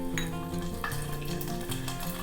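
Garlic, mustard seeds and curry leaves fry in hot oil with a steady, close sizzle, broken by a few brief crackling bursts, and no voices over it.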